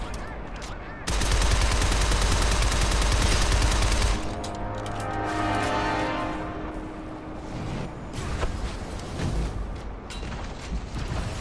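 Sustained automatic gunfire rattles in a Shadow Complex video game fight, a loud dense burst for about three seconds followed by scattered shots and rumbling explosions in the background.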